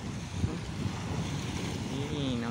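Rough sea at Subic, a steady roar of surf and rushing water mixed with heavy wind buffeting the microphone, close and continuous, with a brief voice near the end.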